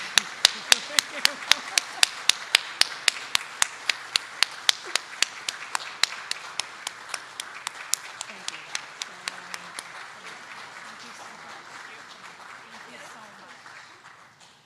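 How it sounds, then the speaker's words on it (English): A standing round of applause at a school board of education meeting rings out as a burst of sharp, loud claps that gradually thin and fade into lighter, scattered clapping. "if I could ask everyone to please stand for a round of applause for our PTSA"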